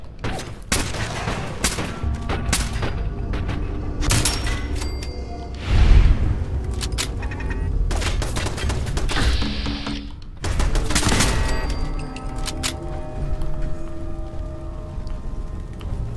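Gunfire fills a Fallout 4 gameplay scene: repeated sharp shots and bursts crack out in clusters, with a heavier boom around six seconds and dense volleys separated by brief gaps.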